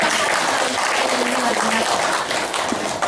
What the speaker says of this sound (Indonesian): Kita berikan tepuk tangan sekali lagi untuk kedua